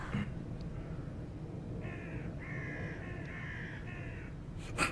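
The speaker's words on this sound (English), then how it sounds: "It's the crows for me." Crows caw in a short run of harsh, nasal calls set into a K-pop music track, fairly faint and sitting behind a dense musical backdrop.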